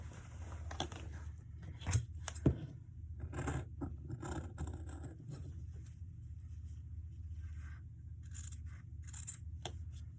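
Scissors snip through fabric for a tote bag lining, irregular close cuts and clicks over a low background hum, with a few sharper snaps early on.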